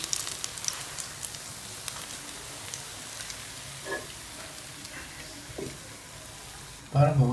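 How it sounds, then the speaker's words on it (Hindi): Chicken pakora sizzles in hot frying oil with a continuous, quiet crackle, broken by a few small clinks and a louder clatter near the end. "इसी तरह मैं बाकी सारे भी पकौड़े फ्राई कर लूंगी"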